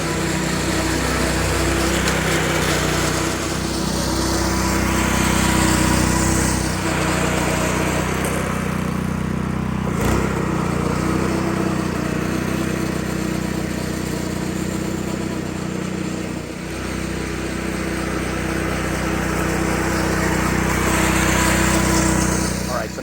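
A California Trimmer reel lawn mower cuts residential grass with a continuous, fairly loud motor drone and whirring blades that swell and fade slightly as it moves.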